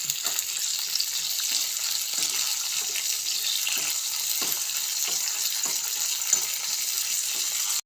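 Ingredients for palada payasam fry in a hot pan with a loud, continuous close-up sizzle and crackle. No talking.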